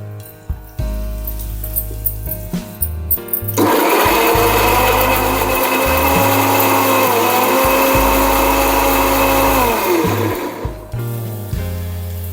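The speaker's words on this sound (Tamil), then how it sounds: "இப்போ இதை அரைச்சிட்டு வந்துடலாங்க" A mixer grinder whirs through chilli masala paste for a paneer masala, first in short pulsed bursts, then in a loud sustained motor whine lasting several seconds before stopping and giving a couple more brief pulses.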